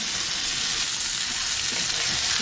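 Steak sears loudly in a hot pan right after being flipped for street tacos, a dense, continuous close sizzle with no break or voices.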